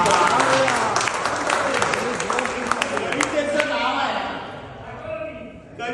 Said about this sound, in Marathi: सर्वांनी मला परवानगी द्या टाळी वाजून